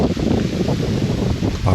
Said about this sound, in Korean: 바람 소리가 살벌하죠.